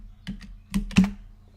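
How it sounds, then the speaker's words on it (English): A few quick clacks on a computer keyboard as a single word is typed, in bursts of keystrokes close to the mic with no talking. "Let me just type in Draconian."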